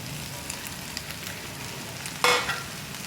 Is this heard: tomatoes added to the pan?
yes